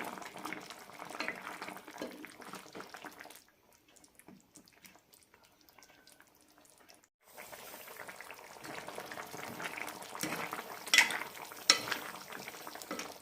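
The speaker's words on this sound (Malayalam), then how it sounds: "കറി തിളയ്ക്കാൻ തുടങ്ങിയ ലോ ഫ്ലെയിമിലിട്ട് വേവിക്കാം ഇടയ്ക്കൊന്ന് ഇളക്കാം" Drumstick tamarind curry bubbling gently on a low flame, with soft sizzling and simmering, a quieter covered stretch in the middle, then spoon stirring and scraping in the pot near and clear with no talk.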